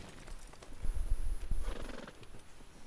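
A horse whinnies and hooves clop in a short burst in Red Dead Redemption 2, fairly close, against quiet background noise.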